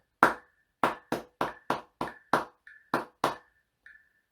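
Crisp hand claps tap out a short rhythm in a trumpet and cornet music lesson, about ten sharp, dry claps in an uneven pattern, with a faint ringing tick between some of them.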